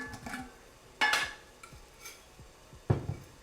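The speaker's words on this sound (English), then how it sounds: "we're gonna go ahead and add our noodles to the pot while this heats up" Linguine being added to a pot of boiling water on a home stove, a couple of sharp clanks and rattles against the pot with quiet bubbling between them.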